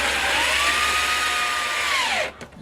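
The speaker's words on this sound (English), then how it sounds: "I got a new variable speed drill here" A new variable speed power drill runs at a steady high whine for a little over two seconds, close and loud, then spins down and stops.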